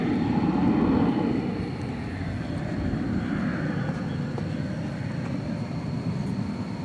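Boeing 777 jet engines at DFW Airport, a steady broadband roar, loudest at the start and then holding level, distant-sounding and continuous with no voices.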